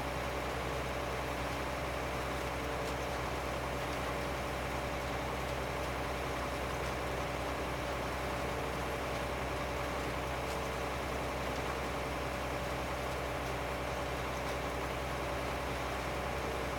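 A tractor seeding in a farming video game hums with a steady low engine drone, unchanging and moderately quiet for the whole stretch, with no voices.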